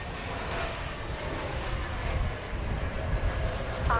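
An American Airlines Flagship airliner turning at Dallas Fort Worth airport, its engines a steady, moderately distant roar that holds through the whole stretch.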